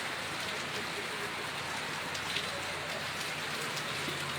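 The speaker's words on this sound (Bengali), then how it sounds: "বৃষ্টি হচ্ছে" Steady rain falls in Lakshmipur, Bangladesh, as a continuous even hiss of drops on surfaces, moderately loud and unbroken throughout with no voices.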